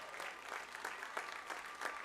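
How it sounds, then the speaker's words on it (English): Crowd applause in the stands at a high school football game between Eastern Hancock and Wes-Del, a faint, distant wash of clapping sustained throughout. "Let's give them a huge round of applause."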